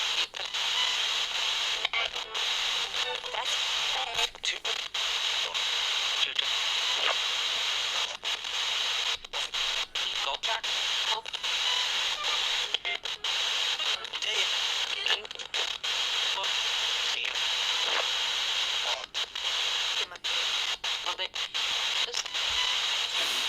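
Continuous hissing static with rapid choppy cuts and flickers from a Radio Shack 12-470 radio used as a spirit box, sweeping through stations, steady and fairly loud throughout.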